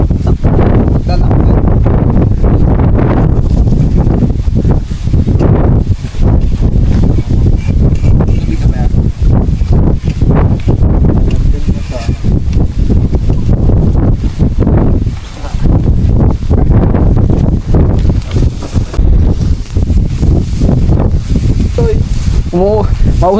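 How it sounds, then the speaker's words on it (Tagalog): Strong wind on a mountain buffets the microphone, giving a loud, low roaring rumble with gusty surges that persists throughout while people talk underneath. "Mahangin ngayon, mainit."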